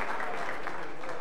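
A boxing crowd applauds as fighter Luis Carrillo gets back up after a first-round knockout, a brief, steady wash of clapping filling the arena.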